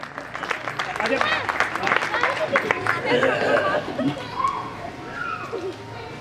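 Audience applause at a 2025 Hindi kavi sammelan poetry gathering welcoming comic poet Ajay Pradhan, a burst of crowd clapping mixed with chatter and murmuring, fairly close and dense before gradually thinning out.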